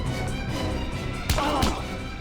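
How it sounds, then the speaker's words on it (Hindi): Two sharp, booming cracks ring out about a third of a second apart, like gunshots outside in a tense crime-drama rescue, rising over a steady bed of background noise. "बाहर गोली चलने की आवाज"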